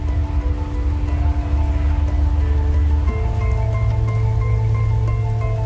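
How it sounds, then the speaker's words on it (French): Heavy rain falls steadily over an airport as the last planes line up before closure, a dense continuous wash of rainfall with low rumbling and steady tones beneath it, loud throughout. "Mais voilà que la pluie se fait plus forte."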